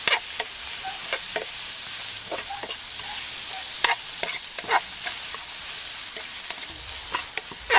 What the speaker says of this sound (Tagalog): igigisa natin itong mga kasarap yung patatas hanggang maluto